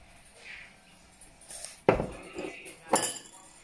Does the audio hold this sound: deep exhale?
no